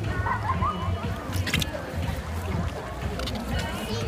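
A child splashes and sloshes in water, with continuous soft splashing and gurgling close by under a steady wash of noise.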